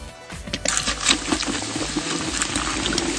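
Coke pours into a bucket holding golf iron club heads, a continuous liquid splashing and gurgling with a few hard clinks against the metal, close and fairly loud, with no talking.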